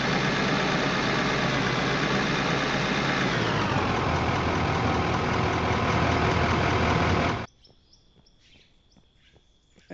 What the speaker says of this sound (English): I don't know why the engine sound is so loud